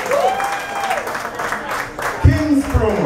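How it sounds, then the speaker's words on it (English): Audience at the launch event of an entertainment company applauding a sponsor, clapping rising briefly over a voice that talks through most of the moment. "round of applause"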